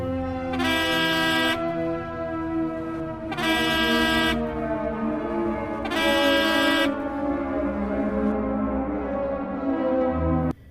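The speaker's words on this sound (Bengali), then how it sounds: "ড্রাইভার হর্ন দিতে থাকেন" Train or vehicle horn sounding three long, loud blasts at a railway crossing, evenly spaced, over a continuous engine rumble, with no voices.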